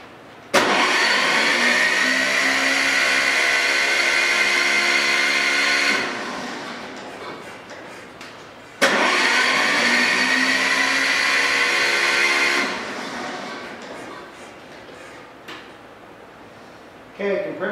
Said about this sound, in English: Figure I'll roll it over a little bit without compression, just to get the oil circulating